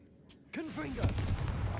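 Confringo blasting spell going off in Hogwarts Legacy, a sharp blast that sets off crackling, popping impacts, with a brief voice-like tonal sweep and game sounds just before it.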